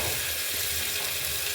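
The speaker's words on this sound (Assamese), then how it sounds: "এয়া আদা নহৰু আৰু পিয়াজৰ পেষ্টখিনি দি দিছোঁ এইখিনি ভালকৈ ভাজি ল'ম" Ginger, garlic and onion paste sizzles and fries in hot oil, a steady close crackle with light stirring scrapes throughout and no voices.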